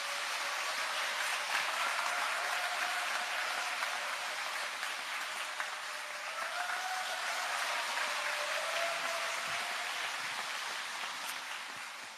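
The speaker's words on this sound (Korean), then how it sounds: "큰 박수로 맞이해 주시기 바랍니다." A church congregation at a Catholic parish prayer service on national affairs gives a pastor steady, fairly quiet applause on arrival, the clapping sustained and even throughout with no talk.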